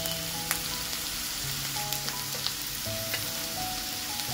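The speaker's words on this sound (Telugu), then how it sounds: "ఈ ఉల్లిపాయలు ఇలా కొంచెం వేగిన తర్వాత 1-2 నిమిషాలు వేగిన తర్వాత ఇందులో ఉప్పు వేసుకోవాలి" Onions frying in a pan for tomato rice give a soft, steady sizzle with a few faint clicks and taps over a low background hum, without any voices.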